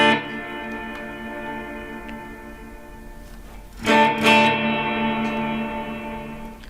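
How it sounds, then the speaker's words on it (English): Sustained electric guitar chords run through a Line 6 HX Stomp reverb effect, ringing and washy as the first chord decays and a second strum blooms with a long reverberant tail. "you can really change that reverb or other effect from being quite bold to being quite subtle"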